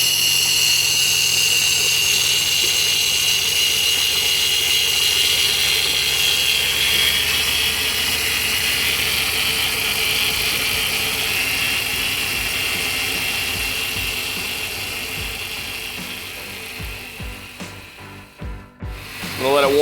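Pontiac Grand Prix GXP with an LS4 V8 running and warming up after transmission work, a steady loud engine drone that eases slightly before some clunks and rattles near the end.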